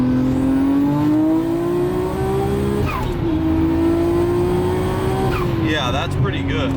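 A Nissan GT-R pulls hard through third gear with a loud, close engine drone that rises steadily in pitch. The note dips briefly at shifts and climbs again, heard from inside the car.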